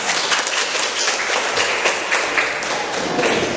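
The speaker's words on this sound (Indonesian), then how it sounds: "Terima kasih, tepuk tangan semuanya." A high school class in Indonesia claps their hands together, a loose, uneven patter of many hands with occasional sharper taps, steady and fairly close for a few seconds.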